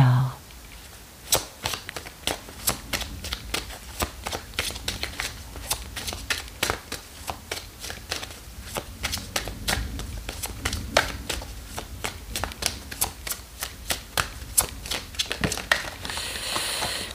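Deck of tarot-style cards being shuffled by hand, a fast run of crisp riffling flicks and slaps close up, with a voice speaking faintly at times.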